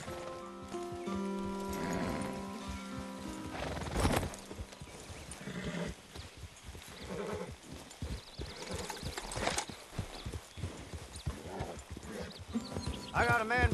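Horses in the video game Red Dead Online clip-clop along at a trot, with a whinny rising partway through, all under background music and game sounds.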